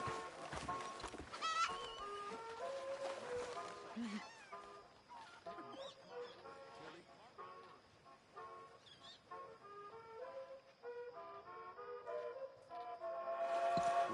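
Sheep bleat in a Red Dead Redemption 2 game scene at night, with quiet, wavering calls mixed into soft background music and light ambient noise.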